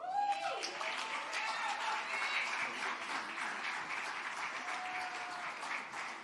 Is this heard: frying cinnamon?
no